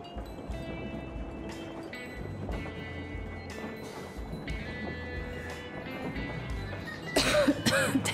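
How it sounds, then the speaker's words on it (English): A character in Metro Exodus coughs and clears his throat several times in scattered bursts, with a rumbling train-interior ambience underneath and a louder, harsher cough cluster near the end. "Damn coughing."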